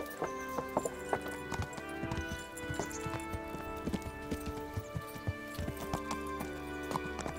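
Horse hooves clip-clop in a rapid, galloping rhythm in the medieval video game Kingdom Come: Deliverance, with steady close thuds over an ambient game background and no speech.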